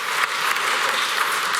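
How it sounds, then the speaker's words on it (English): Audience at a startup demo day at a convention applauds continuously, a dense, even wash of clapping with no pauses. "we can continue the applause"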